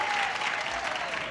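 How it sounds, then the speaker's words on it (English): Studio audience at a 1980s television game show applauding and cheering, a dense, steady wash of clapping that fills the whole short moment. "Now they're cheering, aren't they?"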